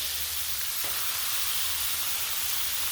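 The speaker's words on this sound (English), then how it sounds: "We're going to cook up the bacon" Bacon frying on a Blackstone flat-top griddle, a faint continuous hiss and sizzle with a single soft tap near the start and no voices.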